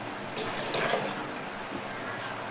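Water in which lentils were boiled is poured into a cooking pot, making a continuous close splashing and trickling for a couple of seconds.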